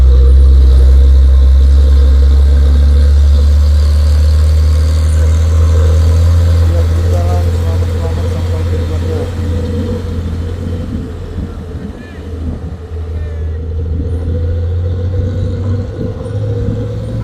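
A trailer truck engine labouring up a steep hill in heavy rain, a loud, close, deep steady rumble that drones on throughout, easing slightly midway, while someone talks over it.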